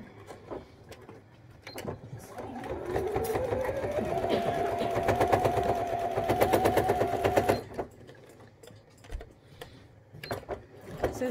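Home sewing machine stitching a fabric face mask through many layers, its motor whirring steadily with a rising strained hum for several seconds, close and moderately loud, framed by softer clicks and handling noises before and after.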